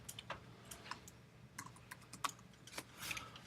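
Typing on a computer keyboard while laying out a photo essay, with quiet, irregular key clicks in short bursts over a hushed room and no talking.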